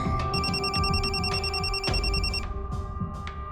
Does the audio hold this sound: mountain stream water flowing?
no